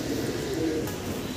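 Fancy pigeons coo softly at a farm. Low, rolling coos run continuously under a steady background hum.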